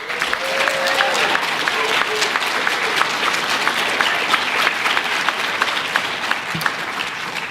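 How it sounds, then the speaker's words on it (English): Sustained applause from a sizable crowd at a high school top-students recognition event, steady and fairly loud throughout, with a few faint voices mixed in. "a big round of applause for the teachers that have influenced them"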